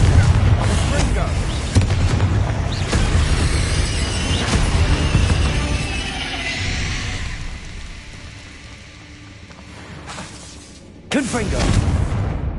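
Fiery Confringo spell blasts in Hogwarts Legacy, a run of heavy rumbling explosions and crackles that fade to quiet, then one sudden loud burst erupts near the end.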